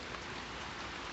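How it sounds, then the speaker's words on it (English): Steady rain falls ahead of a big winter storm, a dense, even hiss with no breaks, fairly faint and uninterrupted throughout. "it's rainy."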